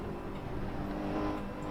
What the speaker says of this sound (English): It's got such a dull engine though, it's quite hard to hear